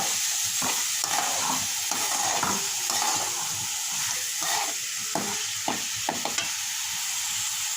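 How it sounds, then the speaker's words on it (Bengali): Fried rice is stir-fried in a pan, with a steady hissing sizzle broken by frequent scraping and tossing strokes of a spatula. The sound is close and no one speaks. "এখন এটাকে একটু নেড়ে চেড়ে ভাজি ভাজি করে নেব।"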